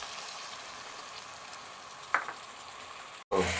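Chopped tomatoes sizzle in a pan for mutton brain kheema, a soft, steady frying hiss with a couple of brief stirring clicks, then a momentary dropout before the sizzle returns.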